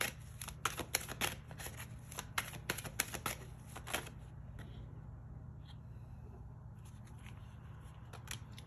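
Tarot cards are shuffled and drawn in a quick run of crisp riffling clicks and slaps, close and fairly quiet, then tapering into sparse soft card handling over a low steady hum.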